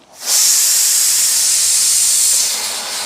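A pongal pot boiling over gives off a loud, close, continuous steam-like hiss that rises quickly and holds steady for about three seconds before easing slightly.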